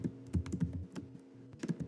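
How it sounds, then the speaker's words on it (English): Clicky keystrokes tapped with long new nails on a computer keyboard, an uneven run of close, sharp clacks with brief pauses and no talking. "I just got new nails, y'all, and I'm struggling with typing"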